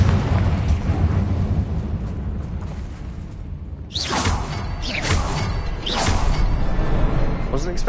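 The Confringo explosive spell in Hogwarts Legacy bursts in a series of loud blasts with bright crackling whooshes, mixed with other casting and combat noise, and a voice is heard over the action.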